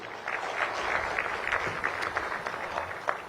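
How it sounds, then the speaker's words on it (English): An audience at a trade and investment summit applauds steadily, many hands clapping in a dense, even patter that fills the room. "Can we give them a round of applause?"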